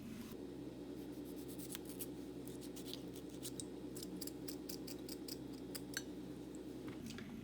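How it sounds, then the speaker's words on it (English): A knife cuts through tomatoes on a board and scrapes out the seeds, with a run of crisp, close ticking chops over a low steady background hum. "I'm going to cut the tomatoes. From tomato also I'm not going to use the seed, so I'm going to take out the seed."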